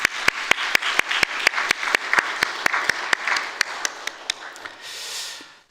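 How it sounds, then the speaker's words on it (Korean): A congregation at a New Year's church service clapping for their pastor in a slow, even rhythm, about twenty sharp claps that stand out clearly over a softer background patter and fade into murmuring at the end. "우리 이우리 목사님한테 박수 한번 치겠습니다"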